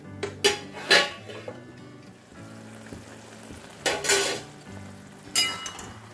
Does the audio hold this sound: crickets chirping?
no